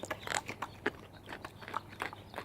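A dog crunching a fresh carrot up close, with repeated sharp crisp bites and chewing in an uneven rhythm, fairly quiet and without talk.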